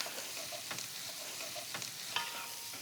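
Chopped onions for chili sizzle steadily in a hot pan while a utensil stirs them, adding a few soft scrapes over the continuous frying hiss; no one speaks.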